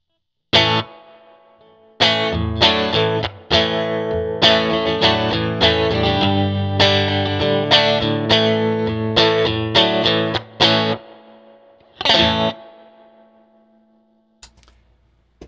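Guitar played through a Fender Princeton Reverb amp with the reverb at three, a strummed chord burst followed by a run of bright picked and strummed phrases with a reverb tail, ending in a few isolated chords, loud and alone.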